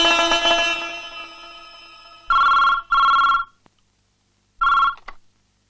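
A telephone rings as a call is placed: a sustained tonal sound at first, then three clear ringing bursts separated by silent pauses.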